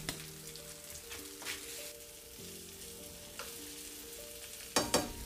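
Food sizzling in a hot frying pan, a quiet steady hiss and crackle with a couple of louder spatters toward the end, close, with no talking.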